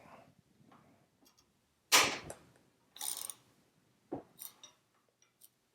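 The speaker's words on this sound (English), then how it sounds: "now you can use a 6mm Allen head socket to loosen up the bar clamps." A 6mm Allen head socket loosens the handlebar clamp bolts on a Royal Enfield Interceptor 650, heard as a few sharp metallic clicks and ratchet-like snaps, close and spaced apart, with quiet pauses between.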